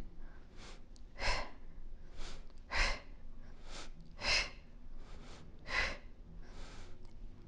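Heavy, rhythmic exercise breathing during a kettlebell workout, with about six strong close exhales or gasps spaced a second or so apart and quieter inhales between them.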